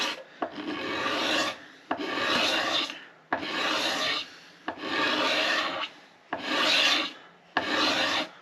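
Close, rhythmic rasping strokes of a scraper shaving the wood of a 1937-style Martin D18 acoustic guitar neck, six long even passes separated by brief pauses.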